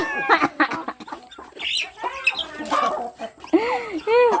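Chickens cluck and squawk close by in short, irregular bursts, with sharper rising calls near the end, while a person talks in between.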